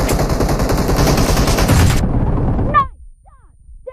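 PUBG video game gunfire, a rapid, loud burst of automatic shots lasting about two seconds that trails off into quieter echoes and distant sounds.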